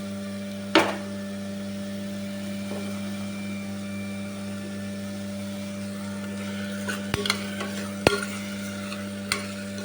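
Mint rice ingredients are stirred and fried in a pan, with a few sharp clinks and scrapes of the spoon over faint sizzling and a steady background hum.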